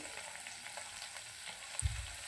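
Kashmiri red chili frying in oil in a pan, a steady soft sizzle with faint crackles and a brief low knock near the end, no voices.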